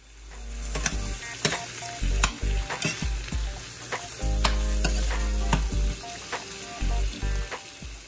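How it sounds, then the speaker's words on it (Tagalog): Shrimp sizzles with butter and onion in a pan as a utensil stirs through it, sharp scraping strokes and knocks repeating over a continuous close frying hiss. "Haluin lang po natin sila para po mag-mix ang lasa ng butter, sibuyas, at ang shrimp."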